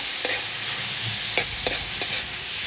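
Meat seasoned with pepper sizzles in a frying pan for pancit, with several scraping stirs of a utensil against the pan over a steady frying hiss.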